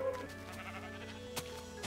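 Sheep bleat faintly in Minecraft, a steady drawn-out bleat under a low game background with a couple of soft clicks.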